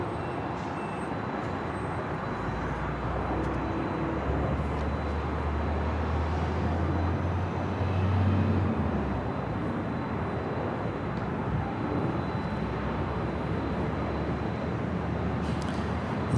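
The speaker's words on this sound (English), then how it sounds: "This is a Delta 767-400ER heading to JFK, flight 678, heading on down for a departure here on the north side and 24 left." A Delta Boeing 767-400ER jet departs LAX on the north side from runway 24 left, a steady broad roar with a low engine hum rising slightly midway, distant and continuous.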